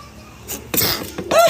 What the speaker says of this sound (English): Okay, I gotta sneeze.